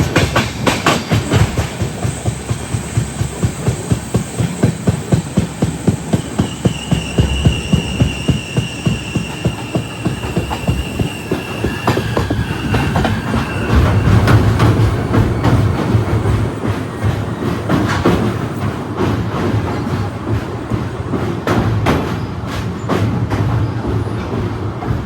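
Sleeper-class train rolling into Chandigarh Junction around a long curve, with steady rhythmic clickety-clack of wheels over rail joints and a continuous loud carriage rumble close up, no voices.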